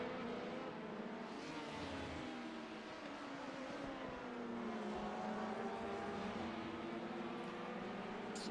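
Race car engines roar continuously in a sim racing league event at Circuit de Catalunya, LMP prototypes battling closely for position, engine pitch rising and falling as they duel, loud and steady with no talk.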